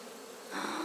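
Honey bees buzzing around an opened beehive, a dense steady hum of many insects that swells louder partway through, close to the microphone with no talking.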